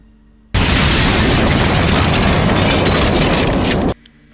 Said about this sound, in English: And then the building blows up.